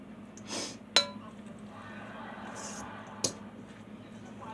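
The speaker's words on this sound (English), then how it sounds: "Give it a little stir, seeing how it looks." A spoon stirs chopped onion in a cooking pot, with two distinct metallic clinks against the pot amid quiet background noise.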